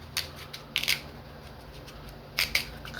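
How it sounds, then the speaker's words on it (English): A knife cuts through a pumpkin in a kitchen, making a few short, crisp crunching bursts that come in pairs with quiet gaps between them, close up and without talk. "I just go down with the knife and then I lift, still cut and lift"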